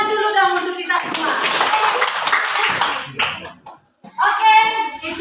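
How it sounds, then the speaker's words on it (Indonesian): Schoolchildren in a classroom clapping their hands, a busy spell of quick claps for about three seconds, framed by children's voices speaking at the start and end. "Tepuk tangan dulu dong untuk kita semua"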